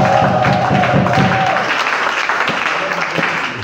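A church congregation applauding and acclaiming the Lord, loud sustained clapping from a crowd filling the room, gradually easing off toward the end.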